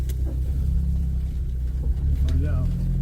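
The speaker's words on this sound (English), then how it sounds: "we gotta run over a log, so it's gonna make some noise right about here" Low steady engine rumble of a 2001 Jeep TJ crawling off-road over a log, a constant deep drone throughout with someone talking over it.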